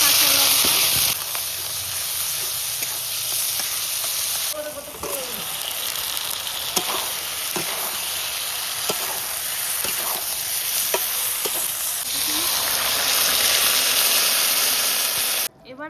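Cumin seeds crackle in hot oil, then chopped ginger and tomato go in for a rohu fish curry, setting off a loud continuous sizzle with sudden surges as ingredients drop and frequent stirring scrapes.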